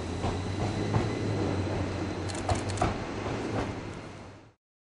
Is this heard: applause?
no